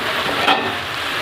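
Flat beans fry in a pan with a brief, steady close sizzle and a soft stirring scrape partway through.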